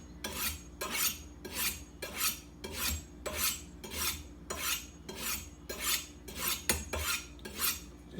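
A knife edge drawn in steady, regular strokes across a sharpening steel for a quick touch-up, about fourteen rasping swipes in an even rhythm, close and clear with no talking.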